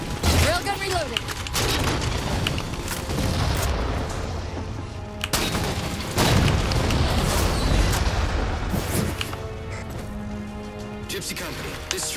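Heavy booming shots from a Mammoth's railgun in Halo 4 erupt in several loud blasts with rumbling decay, mixed with game explosions, music and a voice speaking over the action.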